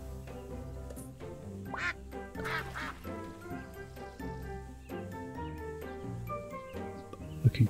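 Duck quacks from the cozy capybara spa video game, a few short nasal calls popping up over bright, steady game music, clear and close.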